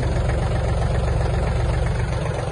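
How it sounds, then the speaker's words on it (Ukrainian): Yanmar EF-222 mini tractor engine running steadily at high revs with the power take-off engaged in third speed, a loud continuous low rumble with constant vibration and no pauses. "І давайте одразу включимо вал відбору потужності."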